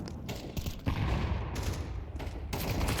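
Rapid AK rifle gunfire in a Counter-Strike match, dense repeated bursts of shots sounding close and loud almost continuously, with brief gaps between volleys.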